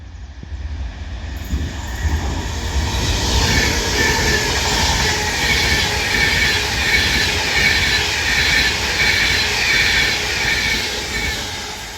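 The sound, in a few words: Avanti West Coast passenger train passing through station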